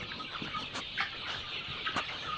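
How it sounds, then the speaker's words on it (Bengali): Chickens cluck steadily in a poultry farm house, several birds calling close by in short overlapping bursts with a constant low background murmur of the flock. "আমাদের খামারের মুরগিগুলা অনেক সুন্দর আছে"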